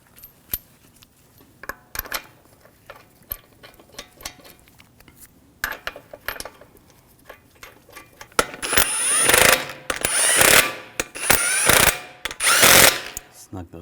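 Lug bolts are run down on a Volvo S60 front wheel, scattered metallic clicks and ratcheting at first, then louder bursts of rapid power-tool rattling close by.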